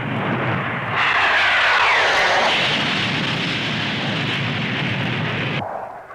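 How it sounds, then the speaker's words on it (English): Scimitar jet aircraft in formation aerobatics at the Farnborough airshow in the 1950s, a loud roaring jet rush swelling suddenly, holding steady, then cutting off near the end. "A twinkle roll, a new maneuver by scimitar jets"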